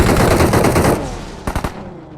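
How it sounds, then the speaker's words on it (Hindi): Automatic gunfire in the video game BGMI: a loud, dense burst of rapid shots for about a second, then a few separate close shots before it fades. "इन लोगों ने एकदम से मेरे ऊपर फायर करना चालू कर"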